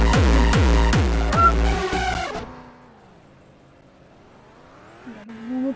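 Several video game cars race past with rapid, rhythmic engine whines and gear-like pulses for about two seconds, then fade into a quieter, low humming drone before a short rising whir at the end.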